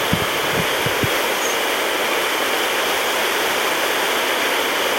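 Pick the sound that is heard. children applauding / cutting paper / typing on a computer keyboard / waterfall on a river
waterfall on a river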